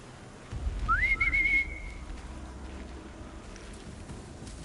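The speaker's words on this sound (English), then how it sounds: "The old whistle around the corner trick." In Horizon Zero Dawn, the character gives a short rising whistle to lure enemies, a single clear tone that swoops up then holds for about a second, heard over soft rain and low rumbling ambience.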